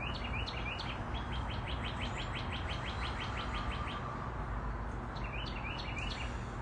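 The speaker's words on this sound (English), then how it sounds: "You guys hear those birds in the background?" Small birds chirp and tweet in short repeated bursts outdoors, clustered at the start and again near the end, over a steady rumble of background noise.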